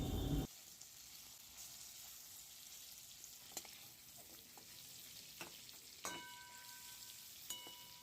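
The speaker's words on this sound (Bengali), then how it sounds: "একইভাবে এবার বাকি মাছগুলো ভেজে নেওয়া হবে।" Prawns fry in hot oil in a pan, giving a quiet, steady sizzle at close range, broken by a few sharp ticks and clinks of a utensil.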